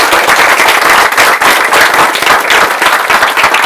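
A large seminar crowd claps hard and continuously, a dense loud wall of hand claps with no pauses from start to finish.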